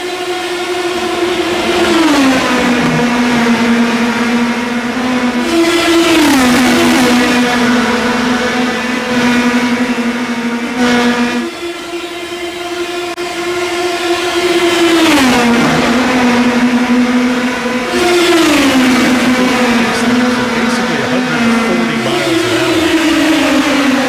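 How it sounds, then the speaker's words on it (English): A race car engine in the iRacing video game at Phoenix Raceway revs loud and steady, its pitch climbing and dropping in repeated cycles of upshifts and downshifts, with an occasional voice faintly underneath. "That race car's getting sporty here late in the race."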